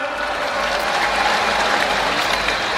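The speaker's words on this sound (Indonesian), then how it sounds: "Tepuk tangan semuanya untuk para atlet" Crowd applause for athletes at the PON XXI 2024 opening ceremony in Aceh, a dense, steady roar of clapping filling a large stadium without a break.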